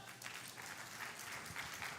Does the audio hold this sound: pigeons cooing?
no